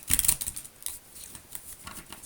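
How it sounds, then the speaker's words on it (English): Tarot cards being shuffled by hand, a series of crisp papery riffles and flicks in quick uneven bursts, fairly quiet and close, with no talk over them. "Let's do one more shuffle here."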